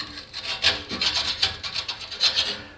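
A metal file rasps rhythmically across the back of MIG spot welds, a close, steady series of scraping strokes with no talking.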